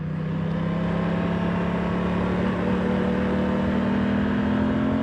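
A 2025 Aprilia Tuono 660 motorcycle engine pulls away after a roundabout, a loud steady drone that slowly climbs in pitch as it gathers speed, with wind rush over it.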